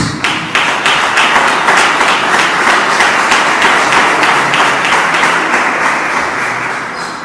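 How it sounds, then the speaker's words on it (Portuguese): A church congregation claps together for Jesus, a dense, steady burst of many hands at close range that holds loud for several seconds before easing slightly, with no voices over it. "podem bater as palmas para Jesus"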